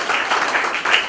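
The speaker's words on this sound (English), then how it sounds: "Get a round of applause." Audience at the Broadway Comedy Club claps for a comedian, a loud, even burst of crowd applause that carries throughout with a slight swell near the end.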